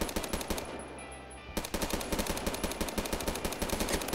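Rapid automatic gunfire rattles in the Roblox shooter Phantom Forces, loud dense bursts with a brief lull near one second before continuous fire resumes to the end.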